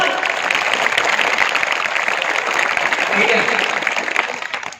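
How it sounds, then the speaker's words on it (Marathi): A crowd at a Shiv Jayanti celebration claps steadily throughout, a dense, even wash of applause at moderate volume that tapers at the very end. "जोरदार टाळ्या वाजवा"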